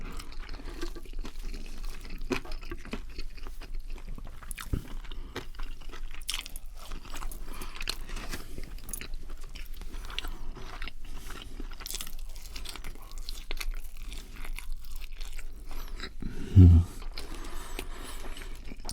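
Cold, soggy KFC chips being eaten close up, with soft wet chewing and faint crunches running steadily throughout, plus one louder bite near the end.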